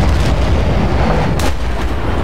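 Explosive charge detonating in the game Battlefield Bad Company 2, a dense continuous roar of battlefield blasts and booming fire, loud and close throughout with a brighter burst near the middle.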